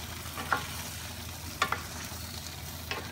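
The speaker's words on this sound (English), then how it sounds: "we'll give this a stir" Crab pieces cooking in a pan are stirred with a spoon, giving a few sharp scraping clicks at intervals over a low, steady background hiss.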